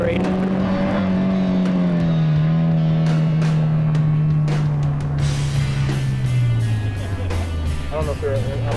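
A drift car's engine drones and climbs in pitch as it gets back on the gas, a loud sustained rising tone with shifting harmonics, with an instructor talking over it.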